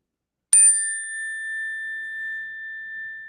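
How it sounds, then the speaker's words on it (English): A small bell, like a bicycle bell, is struck once and rings out in a clear, bright tone that fades slowly over the next few seconds in an otherwise silent room. "Let me give a little bit of a bell here."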